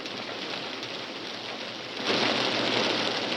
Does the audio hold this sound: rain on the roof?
yes